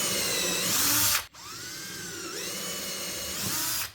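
A power drill drives a screw at an angle into a wooden mailbox post, whining steadily and close up, with a brief pause partway before its pitch climbs as the screw bites.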